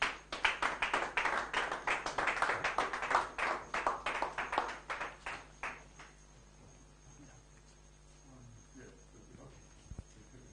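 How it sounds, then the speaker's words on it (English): Audience applause at a talk, a dense burst of clapping that starts loud and gradually thins out over about six seconds, leaving a quiet room with low hum. "please give a round of applause for Osh"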